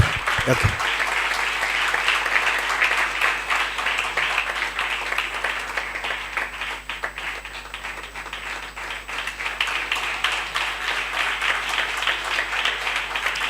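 A convocation crowd at a Bible college claps steadily for graduating students, dense and loud applause running without pause, with a brief thump at the start.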